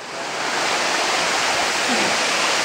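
Waterfall at Dat Fa falls in Surat Thani, Thailand, a steady loud broadband rush of falling water filling the whole clip with no break.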